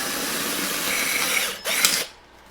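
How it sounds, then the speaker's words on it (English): A power drill bores holes in a micro timbale drum shell along the seam, a steady whirring drone that briefly cuts out and surges again before stopping abruptly. "Let's drill the holes."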